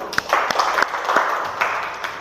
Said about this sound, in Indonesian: Tepuk tangan dulu untuk Wahyu